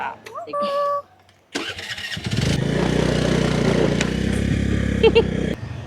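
A scooter engine in Sri Lanka cranks and catches after a brief voice, then settles into a steady, close idle that runs to the end.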